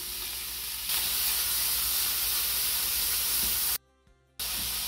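Chopped garlic sizzles loudly in a hot chili pot on a high burner, a steady frying hiss that cuts out briefly for under a second before resuming.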